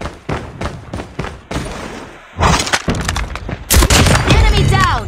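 An airstrike in Call of Duty Mobile drops bombs, filling the clip with loud, close, crunching blasts and debris-like shattering that rolls on in a dense barrage after a short burst of earlier impacts.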